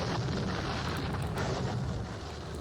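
Gunfire and artillery in a Napoleonic war strategy game, the Battle of Eylau: a dense, continuous rumble of booming fire with scattered sharper cracks, loud and unbroken throughout.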